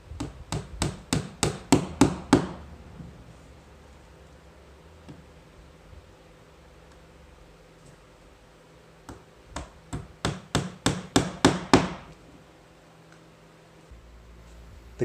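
Brass cut tacks hammered into the canvas and ribs of a wood-canvas canoe: two quick bursts of about eight sharp, ringing taps each, close and loud, separated by quiet handling noise.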